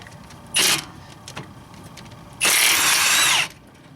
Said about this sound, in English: my electric Milwaukee 1/2 inch, which is a nice powerful tool to get these off easy